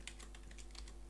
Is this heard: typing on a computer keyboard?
yes